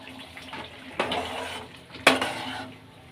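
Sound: stirring thick curd into onion gravy in a pan

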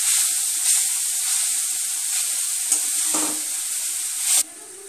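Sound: milk added to hot pan of cooking carrots, sizzling

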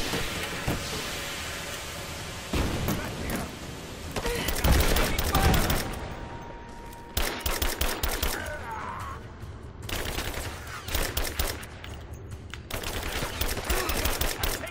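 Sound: gunfire in the video game Rise of the Tomb Raider

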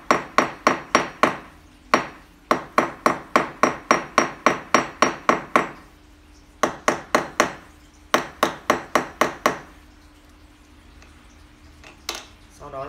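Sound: hammering mosaic pins into a slingshot grip

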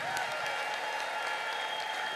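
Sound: applause and ululation from a church congregation

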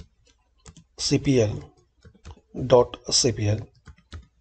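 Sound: typing on a computer keyboard

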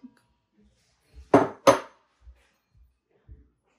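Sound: stirring crushed tomatoes and seasoning in a pot

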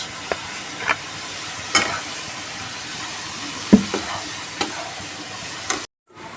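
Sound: stirring pointed gourd with salt and turmeric in pan

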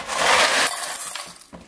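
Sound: food being filled into cat food bowl

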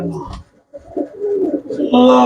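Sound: pigeons cooing

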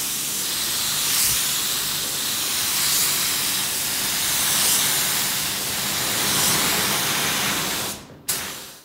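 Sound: spray gun applying polyester spray filler to car panel

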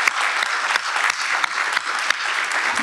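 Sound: audience applause

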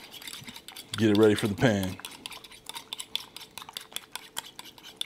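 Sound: spoon whisking eggs in a bowl for an omelette

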